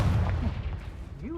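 A Confringo fire spell blasts in the Hogwarts Legacy video game. A short, booming burst of impact noise is mixed with a voice.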